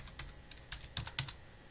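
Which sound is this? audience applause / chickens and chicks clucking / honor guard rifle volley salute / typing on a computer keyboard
typing on a computer keyboard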